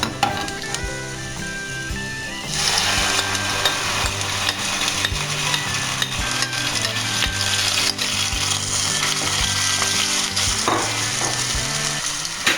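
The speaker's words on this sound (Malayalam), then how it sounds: "ഇനി സവാളയുടെ പച്ചമണം മാറുന്നത് വരെ ഇത് നന്നായി വഴറ്റിയെടുക്കുക" Onions sautéing in a pan for chicken chilli: a quiet start with a few clinks, then a sudden loud, steady sizzle as the onions go in, with stirring scrapes and occasional utensil knocks.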